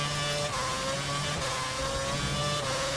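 A Formula 1 car engine in a racing video game at the 2011 Hungary circuit screams at high revs with steady tonal whine and brief pitch drops between gear shifts, loud and continuous.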